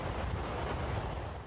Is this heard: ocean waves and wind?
yes